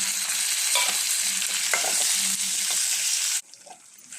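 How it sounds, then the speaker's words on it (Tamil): Ripe tomatoes sizzle in a pan with sautéed garlic and shallots for Tamil garlic kuzhambu, a loud continuous frying hiss with spoon scrapes, dropping suddenly to a quieter simmer near the end. "இப்போ 2 பழுத்த தக்காளி சேர்த்து வதக்கிக்கலாம்."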